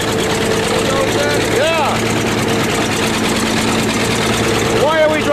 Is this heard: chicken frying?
no